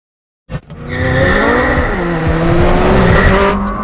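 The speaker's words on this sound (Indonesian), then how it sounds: "Lindy malah menghajar Nevin dan kabur menggunakan mobil mewah milik Justin." A car tears away with loud tire squeal and a revving engine in a chase scene from the 2021 action film Jolt, the noise starting abruptly and holding strong and close throughout.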